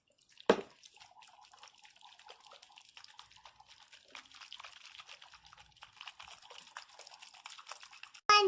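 Water trickles and splashes faintly into a plastic slime shaker kit bottle, a steady thin pour with a sharp click at the start and another knock at the end.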